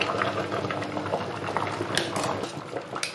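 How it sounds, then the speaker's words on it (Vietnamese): A pot of water at a vigorous rolling boil for blanching cabbage, with steady bubbling and popping plus a few faint metallic clinks. "Nước sôi mạnh."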